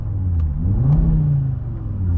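A 2025 Audi RS3 facelift engine revved from inside the cabin in dynamic mode, a close, loud rumble that climbs in pitch, peaks and settles back down.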